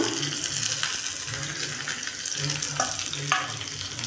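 Small shallots fry in hot oil for a country chicken curry, giving a steady, close sizzle with a few scraping stir strokes and no talking.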